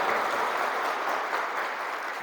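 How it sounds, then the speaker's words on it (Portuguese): A lecture-hall audience at a talk on behaviour and results gives dense, steady applause, loud and sustained throughout. "palmas para vocês"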